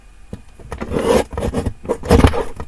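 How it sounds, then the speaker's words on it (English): A paper guillotine trims the end off a paper bag, heard up close as a few short rubbing, rasping scrapes of blade and paper, with two stronger cutting strokes. "I'm going to feed this through on my guillotine here, and all I'm going to do is just trim off"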